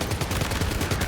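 Rapid automatic gunfire from the video game Death Stranding 2, a dense continuous rattle of shots with steady low-end thumps, loud and close throughout.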